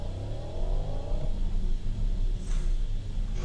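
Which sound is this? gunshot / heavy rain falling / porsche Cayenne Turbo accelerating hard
porsche Cayenne Turbo accelerating hard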